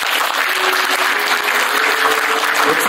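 Audience applause fills a union delegates' convention ceremony, steady and dense clapping from a crowd throughout, loud and close with no break.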